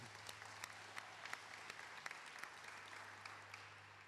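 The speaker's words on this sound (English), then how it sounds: "Let's give them a round of applause there." Audience applause at a city's state-of-the-city address, a faint, distant patter of many hands clapping continuously over a low steady hum.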